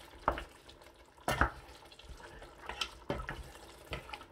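A spoon stirs yogurt into dam pukht korma in a pot, giving soft, wet scrapes and sloshes at irregular intervals, close and fairly quiet.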